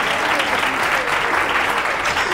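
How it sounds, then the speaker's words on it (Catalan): Studio audience applauding a contestant on a Catalan local-TV word-spelling game show, a dense, steady wash of clapping filling the whole stretch with no break. "tens una cadira i un aplaudiment que et donem."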